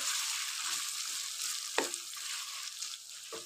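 Mutton frying in rendered tallow fat for karahi, a dense, loud, continuous sizzle with a few stirring knocks, no voices.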